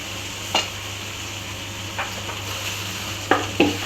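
Okra cooked with tomato and onion in a pan for a Tamil vendakkai poriyal, a low steady sizzle broken by a few sharp scraping and clinking stirs of a spatula against the pan.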